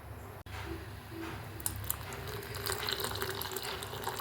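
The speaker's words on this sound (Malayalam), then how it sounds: "അതോടൊപ്പം തന്നെ നമുക്ക് 2 ഗ്ലാസും കൂടി വെള്ളം കൂടി അതിലേക്ക് ഒഴിച്ചു കൊടുക്കാം" Two glasses of water are poured into a cooking pot with tomatoes for rasam, making a steady splashing, filling rush that runs for several seconds at moderate, even loudness.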